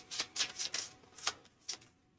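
A deck of cards is shuffled during a GI Joe deck-building board game, giving a quick run of sharp, papery riffling bursts that thin out into a couple of fainter flicks before fading to near silence.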